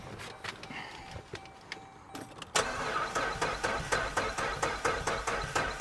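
Jeep engine cranking in a shop, struggling with a rhythmic starter churn that becomes steady, loud, regular chugging pulses after a sudden jump, with no voices.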